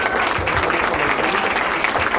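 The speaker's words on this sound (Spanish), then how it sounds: "solicitaría un aplauso muy fuerte para ella también por este primer lugar" An audience at a university essay contest award ceremony applauds loudly and continuously, a dense wash of clapping filling the whole moment.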